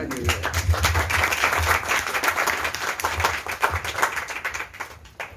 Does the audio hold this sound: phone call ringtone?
no